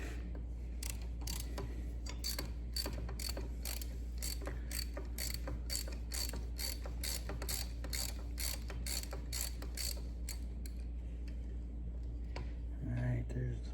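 A ratchet fitted with a swivel works bolts loose on a Kubota M6950 CAV injection pump, giving a steady run of quick, even clicks over a low constant hum, with a brief knock near the end.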